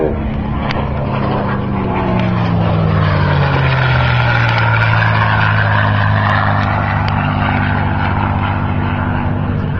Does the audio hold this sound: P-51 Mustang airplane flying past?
yes